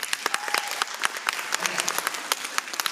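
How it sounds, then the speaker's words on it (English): Audience applause at a live comedy show, a steady burst of many hands clapping that fills the whole stretch at moderate loudness with no talk over it. "just by round of applause, how many out here have really, really strict parents?"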